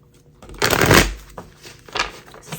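Tarot cards are shuffled close by, a dense riffling burst followed by a few shorter flicks and rustles.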